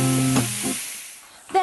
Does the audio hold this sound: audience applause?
no